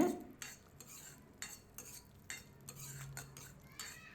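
Moong dal roasting in a pan over medium heat, with a spoon scraping and stirring in regular strokes and a faint sizzle underneath, close and fairly quiet.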